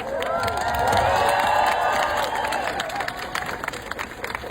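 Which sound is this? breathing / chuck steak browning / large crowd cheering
large crowd cheering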